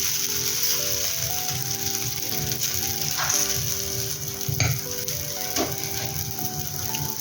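Oil sizzling loudly around Kerala-style appam in a pan, a constant bubbling crackle close to the listener with occasional scraping and clicking touches.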